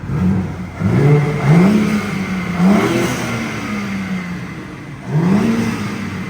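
A BMW G80 M3 Competition engine with front-mount intakes, in M1 mode, blips and revs several times in quick succession, rising and falling with a growling exhaust note, loud and near.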